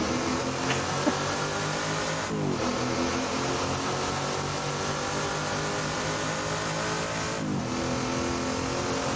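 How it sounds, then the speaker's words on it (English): Ford Mustang V8 muscle car in the Assetto Corsa racing game, engine revving hard in a sustained roar with two sharp gear-change dips, loud and continuous throughout. "So the V8 sound on the Mustang doesn't quite sound as good as the Camaro"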